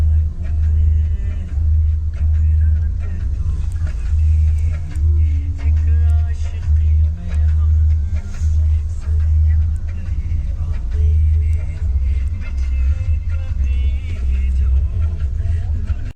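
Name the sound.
heavy road traffic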